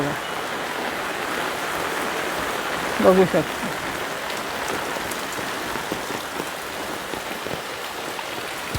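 Steady rain runs and drips from roof eaves in Devgad, Konkan, a constant wet patter throughout, with a brief spoken voice partway through.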